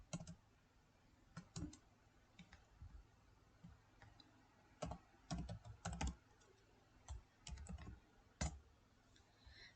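Typing on a computer keyboard while working in Microsoft Word: irregular bursts of sharp key clicks with short pauses between them, close and fairly quiet, with no speech.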